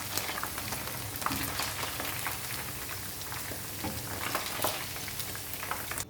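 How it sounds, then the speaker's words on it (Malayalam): Marinated chicken 65 pieces deep-fry in a pan of hot oil, giving a dense, continuous bubbling sizzle like heavy rain with occasional brighter crackles, close and steady without speech. "ഇതേപോലെ എല്ലാം വറുത്തെടുക്കാം."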